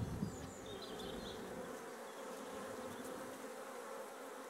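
Honeybees buzz in a dense, continuous hum around an opened hive full of brood in March, fairly close, with a few louder bees passing near.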